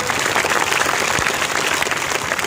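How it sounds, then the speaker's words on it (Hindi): Rally crowd in Ghazipur applauding as Surendra stands to be welcomed, a dense, steady wash of clapping filling the whole short stretch at moderate loudness. "जोरदार ताली बजा के स्वागत करो।"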